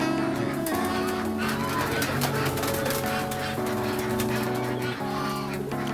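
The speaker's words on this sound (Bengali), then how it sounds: "এখানে আপনার কবুতর আছে বলে দুশোর উপরে কবুতর" A flock of more than two hundred pigeons, including Sirazi, Golla and racer breeds, coos and calls in a cowshed loft on a farm in Savar. The sound is a dense, continuous, close chorus, with voices talking over it at times.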